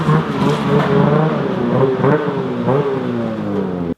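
A snowmobile engine that has a backfiring problem runs loud and close, revving up and down continuously with a rough, buzzing drone.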